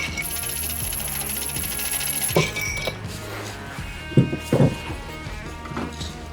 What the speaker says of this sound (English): we're gonna stir this to dilute and chill